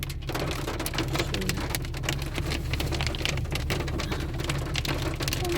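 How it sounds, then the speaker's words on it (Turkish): Dense, steady patter of hailstones striking surfaces in Germany, a constant loud rattling wash with no voices, close and continuous throughout. "şimdi dolu yağıyor."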